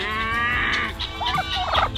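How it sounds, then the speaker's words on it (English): Turkeys gobble on a large farm in Nebraska, a close, loud burst of rapid warbling calls followed by a couple of shorter gobbles, with no talking. "Look at the turkeys too."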